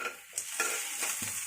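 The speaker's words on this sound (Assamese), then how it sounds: "এই আদা নহৰুখিনি গোন্ধ যোৱালৈকে অলপমান ভাজিম" Ginger and garlic fry in a pan. A brief steady sizzle is broken by a few soft stirring scrapes, with no voices.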